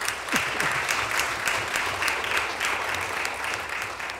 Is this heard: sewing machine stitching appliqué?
no